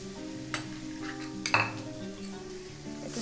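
Spices and turmeric frying in a pan for a palak paneer dish sizzle steadily while a spoon stirs, with a brief louder hiss and scrape as a splash of water goes in, then stirring continues.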